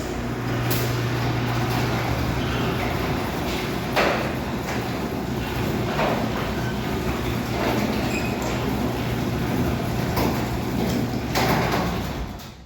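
An adjusted residential garage door rolls open with a long, steady rumbling grind, punctuated by regular clacks and rattles as the panels travel along the track.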